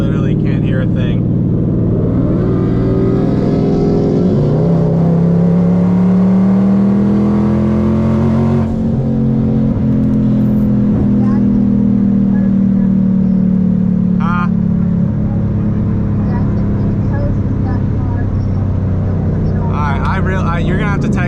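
A twin turbo Mustang engine roars loud and close as it revs and accelerates hard while racing another car, the pitch climbing and falling over a long sustained pull, with talk faintly under the noise.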